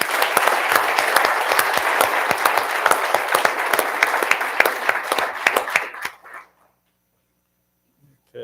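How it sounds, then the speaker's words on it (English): An audience at a homeland security awards ceremony gives an award recipient a burst of close, loud applause with distinct individual claps, which fades out quickly around six seconds and leaves near silence. "let's give a round of applause to John Rackley"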